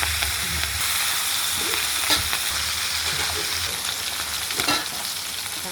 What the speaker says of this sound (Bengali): মাখানো হয়ে গেছে, মাছ ভাজা বসিয়ে দিলাম।